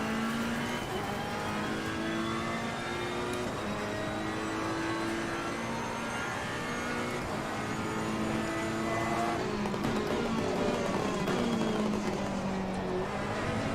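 A Ferrari race car engine in the racing game Assetto Corsa Competizione at Imola, with traction control set low, snarls and surges as the rear steps out, a loud continuous revving drone with no talking.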